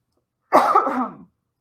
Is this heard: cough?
yes